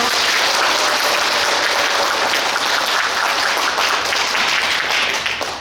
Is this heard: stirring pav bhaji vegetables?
no